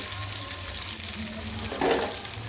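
Cumin paste and soaked tomatoes fry with onions in a hot pan for a rui fish, potato and tomato bhuna, giving a steady close sizzle with a brief louder burst of spitting near the end.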